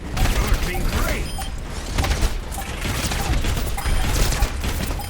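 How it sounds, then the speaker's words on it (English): A defensive turret in the Overwatch video game comes under heavy, continuous gunfire, with dense rapid shots and mechanical clatter running throughout at a steady, loud level. "Turret's under fire"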